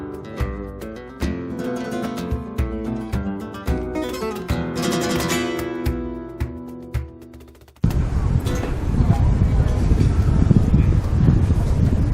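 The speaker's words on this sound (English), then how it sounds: "But it is windy up here." Music plays for several seconds, then cuts abruptly to loud, blustery wind buffeting the microphone in a steady roar on a hilltop in Altea, Spain.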